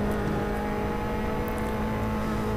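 A car in the racing game Assetto Corsa, driven with an Xbox controller, drones at a steady engine pitch, loud and continuous with no clear revving change, and no talking.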